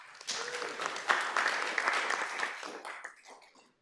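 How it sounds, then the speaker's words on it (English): A round of applause rises from the audience at a community college district board of trustees meeting, steady clapping from a roomful of people that swells and then fades out toward the end. "Give him a round of applause."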